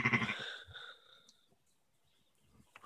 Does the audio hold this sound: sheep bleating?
yes